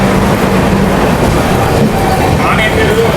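The Ratnachal Express pulls out of Annavaram railway station, filling the clip with a loud, steady rumble and hiss of rolling carriages heard from on board, with faint tonal squeals rising near the end.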